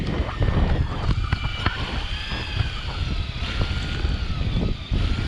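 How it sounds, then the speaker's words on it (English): Strong wind and rough, big seas hitting a jet ski out on open water about 700 feet deep, a loud, continuous roar of wind buffeting the microphone over splashing and the hull slapping the waves. "It's windy, big seas"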